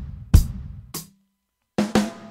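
Drum kit playing the Amen Break groove very slowly: a handful of sharp, close hits, a kick and snare-like strikes spaced apart with a silent gap, then two quick hits near the end.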